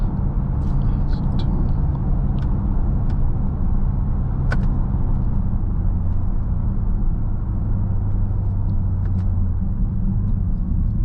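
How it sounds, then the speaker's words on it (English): Steady low road rumble and tire noise fill the cabin of a 2024 Jaguar F-Pace SVR while driving, a continuous drone with faint higher ticks and one brief sharp knock from the road surface. "going to hear a little bit more of some road undulations and noise vibrate throughout the cabin"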